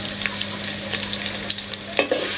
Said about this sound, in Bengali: এই পেঁয়াজগুলোকে একটু বাদামি রং করে নিব, একদম বাদামি যেটা সেটা করে নিব।